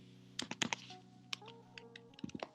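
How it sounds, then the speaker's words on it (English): Several people typing on computer keyboards, quick irregular bursts of clicking keys heard faintly over a soft steady tonal hum, with no talking. "I hear people typing."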